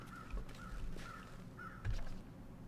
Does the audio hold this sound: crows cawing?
yes